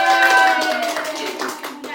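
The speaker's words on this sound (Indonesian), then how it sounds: "Tepuk tangan untuk saya." A short burst of hand clapping from a small group during an online training session, close and fairly loud, with a voice speaking over it.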